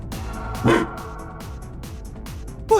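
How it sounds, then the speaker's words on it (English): A dog barks in The Legend of Heroes: Trails beyond the Horizon video game, one sharp loud bark over steady game music, with a second bark cut off at the end. "Is that a dog?"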